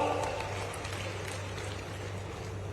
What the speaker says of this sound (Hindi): अगर मिली है तो ताली बजा के बताओ।